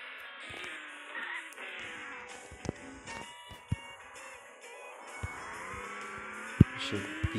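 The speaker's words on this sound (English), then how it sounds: "Very nice engine sound." Engine note of a car in a racing video game, a steady mid-pitched drone with shifting revs and occasional sharp clicks and thumps.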